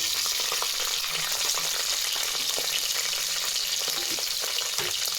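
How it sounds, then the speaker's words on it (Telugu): Finely chopped onions fry in oil for chicken biryani, giving a loud, dense, steady sizzle up close with light stirring throughout and no voices. "ఉల్లిపాయ యాడ్ చేసుకొని ఉల్లిపాయ లైట్ అండ్ బ్రౌన్ వచ్చేంత వరకు ఫ్రై చేసుకుంటాము."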